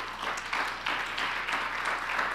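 A congregation at a Spanish-language church service applauds in praise, a soft, steady wash of many hands clapping together with gentle swells, heard from some distance.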